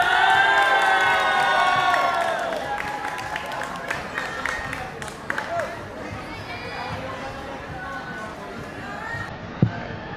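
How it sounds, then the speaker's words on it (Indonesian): A crowd of students at a school class XII practical exam cheers and claps outdoors on the field. The noise is loud and busy at first, with voices mixed in, then thins out toward the end. "Beri tepukan yang meriah"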